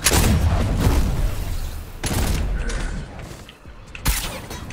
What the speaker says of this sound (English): No, I shot the wrong gun.